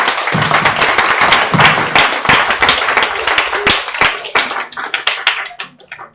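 A church congregation claps and applauds in praise during a French-language worship service, loud sharp individual handclaps in an uneven burst that thins out and fades toward the end.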